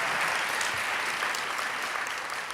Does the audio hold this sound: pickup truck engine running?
no